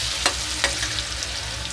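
Finely chopped onion frying in oil over low heat for a pumpkin kofta gravy, a dense close sizzle throughout with two quick stirring scrapes near the start.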